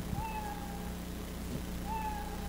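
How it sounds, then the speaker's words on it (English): Craft-kit toy cat fitted with a light sensor gives two synthetic meows, one at the start and one near the end, each a short rising-then-level electronic tone over a steady hum, with no talk. "when the light level goes down, when I pet it, I block the light, it meows"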